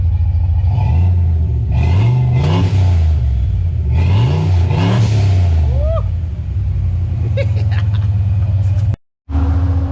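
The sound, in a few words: 500 HP stock block turbo car engine revving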